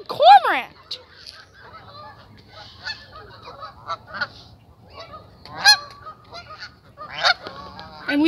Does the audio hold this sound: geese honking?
yes